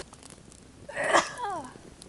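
A single sneeze from a woman, a short sharp burst rising out of quiet outdoor background, close and moderately loud.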